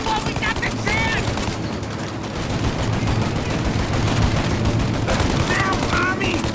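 Sustained gunfire from the video game Mafia, rapid machine-gun bursts and shots hammering almost nonstop and loud, with shouted voices in the middle of the firefight.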